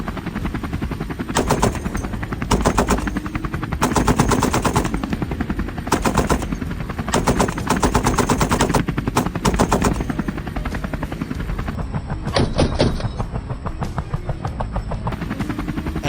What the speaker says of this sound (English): Then, a rapid volley of gunfire erupted.